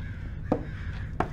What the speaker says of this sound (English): There's a lot of crows outside.